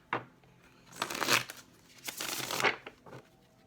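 Two close bursts of tarot card shuffling, each a crisp riffling flutter lasting about half a second, with quiet gaps and small handling taps between.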